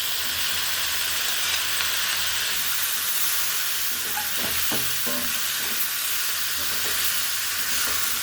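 Chicken pieces tossed into a pan with very little oil set off a loud, dense sizzle and hiss, with a cluster of clattering stir and scrape knocks in the middle, close and continuous.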